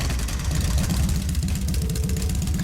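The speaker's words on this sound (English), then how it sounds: "Alright, I'm going to start the engine up now." An engine in the video game Trails of Cold Steel runs with a loud, steady, rhythmic low chugging throughout, heard alone without talk.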